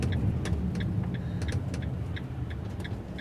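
A car drives along a winding road near a winery in Fairplay and pulls over, a steady low engine and road rumble with faint regular ticking, like a turn signal, above it.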